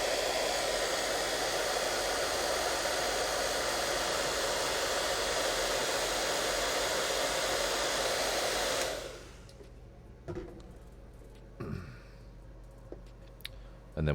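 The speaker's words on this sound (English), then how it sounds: "Then we use a hairdryer, literally, and we just dry it off." A hairdryer blows steadily and loudly to dry paint on a 1/144 full resin model kit, running continuously for about nine seconds before switching off, followed by faint handling clicks.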